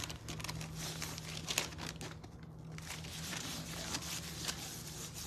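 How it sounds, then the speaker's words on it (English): Sturdy, hefty decoupage paper is wetted and pressed onto a lamp shade, giving soft, close crinkling and rustling that carries on steadily with faint scattered crackles. "You can still lift, and this paper is pretty sturdy. It's not a napkin."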